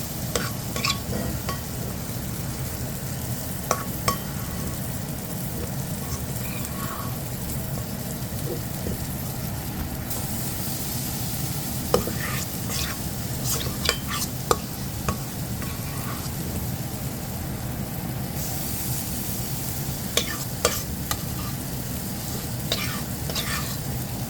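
Butter browning in a cast iron skillet, ready for leftover mashed potatoes, gives a dense, constant crackling sizzle that stays even throughout, with occasional sharp pops and utensil clicks and no voices.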